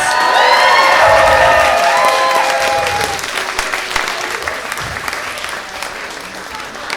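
An audience at a live stand-up comedy show claps and cheers loudly, and the applause slowly thins and fades over several seconds.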